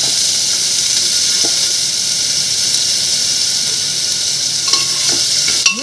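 Washed tengra fish go into hot oil in a pan, setting off a loud, steady sizzle and hiss that holds throughout, with a few clinks near the end.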